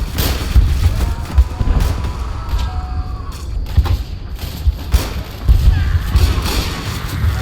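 Shotgun fire in a trench in a Roblox World War I game, several booming shots and thuds mixed with battle noise, with a voice talking over it.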